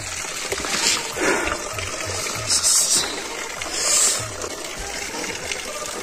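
Water pours and splashes into a drum set under a flow outdoors in a snowy place, an uneven trickling gush with louder splashy bursts, faint voices in the background.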